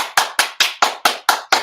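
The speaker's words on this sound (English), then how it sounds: "Captain's getting applauded." Hands clapping in applause for a team captain: about eight crisp, evenly spaced claps in quick steady rhythm, loud and close, no talking.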